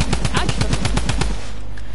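Rapid bursts of automatic gunfire in the video game Fortnite rattle loudly and continuously for over a second, then fade into quieter game ambience with faint background sound.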